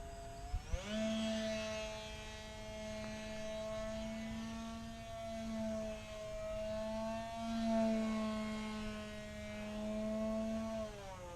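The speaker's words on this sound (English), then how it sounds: "the new engine on is a 2204. It's quite a bit larger than the old engine, so it's definitely got more power." An RC model airplane with a 2204 electric motor flying nearby, giving a steady high whine that rises as the throttle opens and then wavers slightly in pitch as the plane moves.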